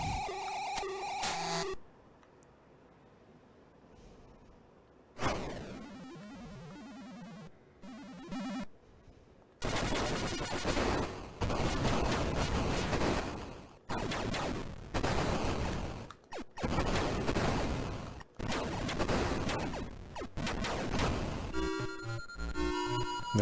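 Rapid bursts of gunfire from an Atari shooting video game, loud and dense, clustered in repeated volleys with brief gaps between them, joined by electronic game effects and no voices.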